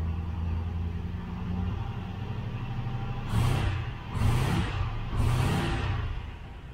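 A cold 1972 Range Rover engine runs close by at a low, uneven idle, then three short blips of the throttle swell the rumble before it settles back.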